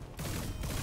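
Suppressing gunfire in XCOM 2, a dense burst of rapid automatic shots that briefly dips and then resumes at full intensity, short and fairly loud with no talk.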